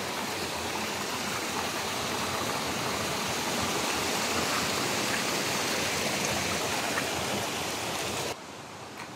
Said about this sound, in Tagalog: Sobrang lakas pa rin talaga ng tubig dito.